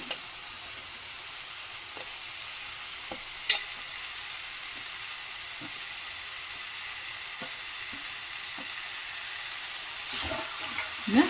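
Fried okra tossed into a pan, a low steady sizzle with scattered soft stirring taps and one sharp clack, then a louder burst of scraping and mixing near the end, no talk.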